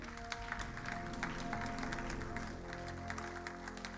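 A church congregation applauding to acclaim God, a faint scatter of claps over a steady sustained tonal background.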